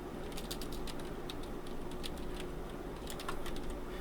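Steady light tapping on a computer keyboard as HTML is being written, soft irregular clicks riding over a constant background hiss, with no voice present.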